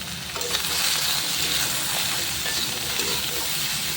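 Fish fries in oil with turmeric and salt while being stirred, a loud continuous sizzle close up with soft scraping of the spatula throughout, no voices.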